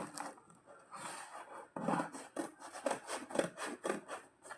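A shoe box is cut apart by hand, making a run of close rasping, scraping strokes that come in quick, uneven rhythm.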